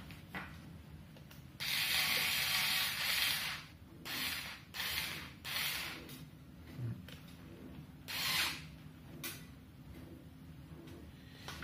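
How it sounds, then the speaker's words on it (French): Metal wrench working the bolts on a beadlock wheel rim during tire fitting, a series of scraping, ratcheting bursts in uneven spurts with short pauses, close and fairly loud, with no talking. "vous commencez à serrer avec la clé"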